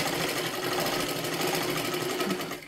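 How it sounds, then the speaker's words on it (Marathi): A sewing machine runs at steady speed, stitching a double seam on a princess-cut blouse. Its fast, continuous mechanical whirr is close and loud, with no voices. "आता आपल्याला ह्याच्यावरती अजून एक डबल शिलाई मारून घ्यायची आहे"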